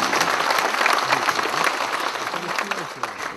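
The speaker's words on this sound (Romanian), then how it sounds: "Vă rog să-i aplaudăm reprezentanților" An audience at a regional meeting applauds representatives from the counties of Ialomița, Prahova, Bucharest, Tulcea and Giurgiu. Steady, dense clapping fills the room throughout, with a voice speaking faintly underneath.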